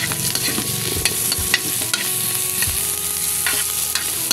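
Onions fry loudly in hot oil for a Filipino ginisang dish, with a dense sizzle and repeated sharp scrapes and knocks of a spatula stirring close up, no voices.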